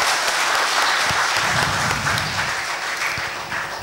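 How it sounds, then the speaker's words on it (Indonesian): Audience at a lecture on Malay history and identity breaking into loud, sustained applause, a thick crowd of clapping that fades slightly toward the end. "Berikan tepukan buruh untuk tuan-tuan dan puan-puan."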